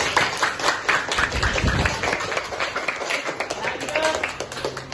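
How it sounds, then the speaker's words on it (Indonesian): A classroom of students in an Islamic creed and ethics lesson claps for a classmate, with uneven, close clapping mixed with chatter and voices throughout. "tepuk tangan untuk Asal"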